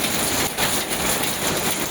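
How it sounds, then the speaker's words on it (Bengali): Small hailstones falling during a sudden hailstorm under heavy cloud, a dense steady patter of many tiny impacts on surfaces nearby, continuous and fairly loud with no voices. "আজকে হঠাৎ শিলাবৃষ্টি শুরু হয়ে গেছে।"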